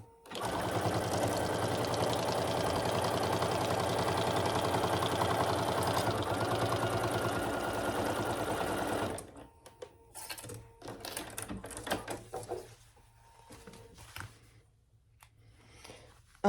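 A sewing machine runs steadily for about nine seconds while stitching a fabric basket with a shortened stitch length, then stops, leaving only faint handling clatter and scattered soft knocks.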